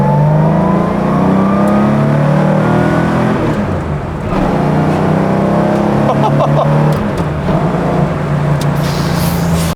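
A loud, close classic race car engine revs continuously, its pitch rising and falling in throaty sweeps, with a brief dip near the middle before roaring on.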